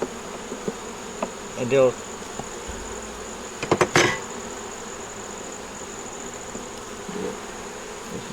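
Honeybees hum around a nuc box hive in a low, steady buzz, with a few louder passes close by, brief knocks on wood, and someone briefly speaking.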